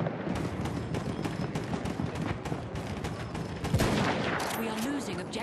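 Rapid gunfire in Battlefield 1, a dense stream of sharp shots and bursts over a noisy battlefield, with a voice talking partway through.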